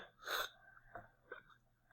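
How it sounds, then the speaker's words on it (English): A single quiet sneeze, sharp and close, followed by a couple of soft breaths. "got the sneezes today"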